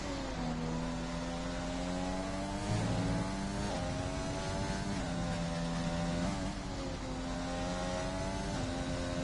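A race car on a hot lap around a Japan circuit in a racing video game, its engine droning loudly and continuously with repeated upshifts and revs rising and falling, with no talk over it.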